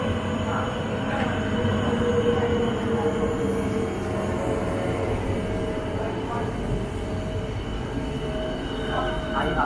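Berlin S-Bahn Ringbahn S42 train at Landsberger Allee station, a loud sustained rumble of rolling wheels and car noise with faint squeals and a muffled station announcement voice underneath.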